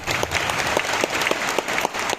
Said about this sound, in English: let us give a round of applause to the graduates